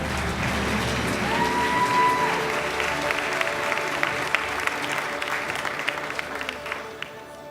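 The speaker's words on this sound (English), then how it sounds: "a round of applause for John Mayer as he joins us on stage" Sustained applause from an awards-show audience as a presenter joins the stage, a dense steady wash of clapping that holds for several seconds before tapering off near the end.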